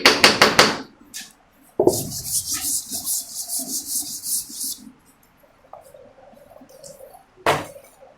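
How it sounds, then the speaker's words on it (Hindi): Repeated rubbing strokes of an eraser wiping writing off a board in a maths class, coming in bursts of brisk back-and-forth scrubbing separated by short pauses. "इसको रब कर देते हैं।"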